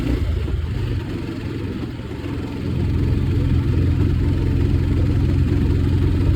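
A 2019 Bajaj Pulsar 220F motorcycle engine drones steadily while being ridden, a close, continuous low rumble that swells a little partway through, with wind noise and no talking.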